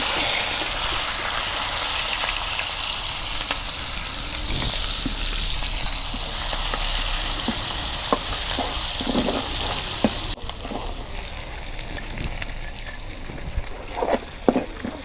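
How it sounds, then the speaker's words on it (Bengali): Onions frying in a pan for a chicken curry, a steady loud sizzle running throughout with scattered stirring scrapes and clicks toward the end. "পেঁয়াজ দিয়ে দিলাম।"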